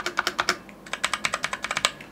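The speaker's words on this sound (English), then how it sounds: "all the keys sound fairly similar, with the exception of the space bar, which does have more of a duller or a bassier effect to it" Fast, crisp key clacks from a 60% mechanical RGB gaming keyboard, about two dozen close strokes in quick uneven bursts with a short pause midway, heard alone.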